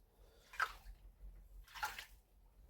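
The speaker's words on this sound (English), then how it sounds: "the tank is certainly due a drain out. So we're going to drain the tank." Water drains from a gold-panning tank in two soft rushing surges, each lasting a few moments, with quieter low rumble between them.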